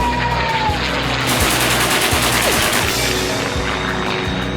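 Rapid machine-gun fire from WW2 aircraft in a war film battle scene, loud and continuous, layered over a heavy droning aircraft engine.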